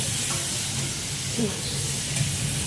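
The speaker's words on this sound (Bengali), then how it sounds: "ভালো করে নাড়তে হবে। মশলাটা কষিয়ে নিতে হচ্ছে" Spices being stirred and fried in a pan for a fish curry with eggplant and potato, a steady close hiss and sizzle throughout, with faint background noise.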